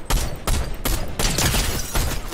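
Gunfire in the video game Fortnite: about five sharp, loud bursts follow one another in quick, uneven succession, close and with no voices heard.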